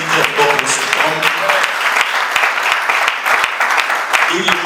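A church congregation honoring a 70-year-old patriarch bursts into continuous loud applause and cheering, with voices calling out over the clapping.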